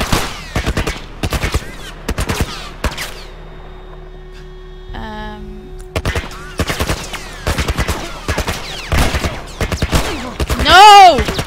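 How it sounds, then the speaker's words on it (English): Rapid bursts of gunfire crack from several directions in The Last of Us Remastered on PS4, loud and repeated through most of the stretch, with a brief lull and a voice shouting and talking between and over the shots. "I'm being shot at from all sides!"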